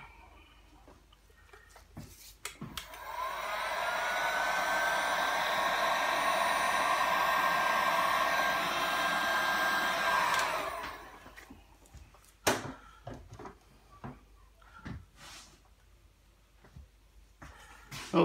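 A heat tool blows hot air onto paint for about eight seconds, a steady, close whooshing roar with a faint tonal whine, bracketed by scattered clicks and handling knocks.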